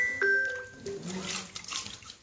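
Plain clean water splashes and trickles briefly, with a few soft tinkling, ringing tones at the start, fairly quiet and close.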